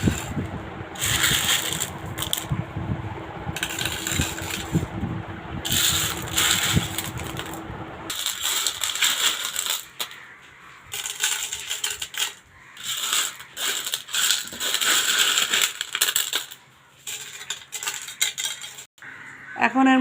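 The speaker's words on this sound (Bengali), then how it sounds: "এখন আপনার ভাইয়া মাছের ঘরের মধ্যে পাথরগুলো দিয়ে দিবে।" Washed stones are placed into a fish tank, making hard clattering and clinking knocks of stone on stone and glass in irregular bursts, with a quieter, sparser stretch later on.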